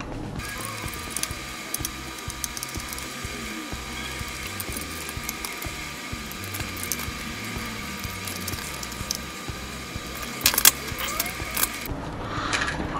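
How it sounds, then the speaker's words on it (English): Seven screws being backed out of a T3 wireless Bluetooth gamepad controller, a steady whirring ratchet-like mechanical buzz from a small driver running almost continuously, close and fairly loud, with no talking. "I'm gonna take these 7 screws and expose the inner works of the controller."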